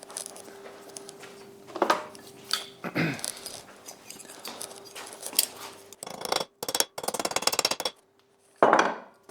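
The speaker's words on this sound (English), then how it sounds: "A piece of copper, which is actually made from a cut and flattened copper pipe, so it's the perfect thickness. Just going to flatten that." Hammer strikes flattening a cut, flattened piece of copper pipe on an anvil, a series of sharp metallic taps in irregular bursts with short pauses, close and moderately loud over a faint steady hum.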